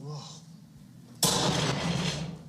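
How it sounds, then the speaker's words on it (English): A sudden loud explosion-like burst erupts midway and lingers as a broad roaring wash, following a quieter stretch with faint tonal sounds. "That explosion."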